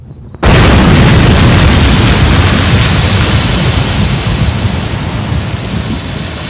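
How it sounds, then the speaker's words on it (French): Artillery shell exploding on a 1915 battlefield: a sudden massive blast that cuts in abruptly and rolls on as a loud, sustained roar for several seconds. "Un obus a explosé."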